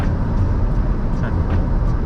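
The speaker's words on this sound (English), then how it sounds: "The dump truck, triaxle." A triaxle dump truck rolls past on the road, a loud, dense low rumble of engine and tires that stays heavy throughout, mixed with general traffic noise.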